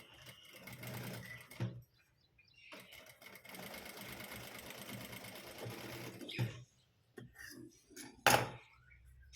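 Close-up, a sewing machine runs in several short bursts and one longer steady stretch while stitching a blouse seam, its rapid rattling hum broken by quiet gaps and small clicks of handling.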